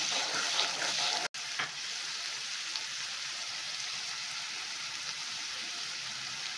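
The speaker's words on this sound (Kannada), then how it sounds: "ಈರುಳ್ಳಿ ಮತ್ತು ಹಸಿಮೆಣಸಿನ ರುಬ್ಕೊಂಡಿದ್ದನ್ನು ಆ ಪೇಸ್ಟ್ ಹಾಕ್ಕೊಂಡಿದ್ದೀನಿ ಇವಾಗ ಇದು ಸ್ವಲ್ಪ ಹಸಿ ವಾಸನೆ ಹೋಗೋವರೆಗೂ ಫ್ರೈ ಮಾಡ್ತಾರೆ" Onion and green chili paste with curry leaves fries in hot oil for an Andhra-style fish curry, a dense, continuous sizzle close by, with one short stir-like break near the start.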